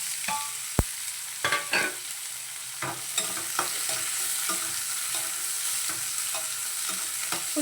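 Onions and curry leaves fry in hot oil, a steady close sizzle broken by several sharp scrapes and clinks of a spoon stirring against the pan, with no voices.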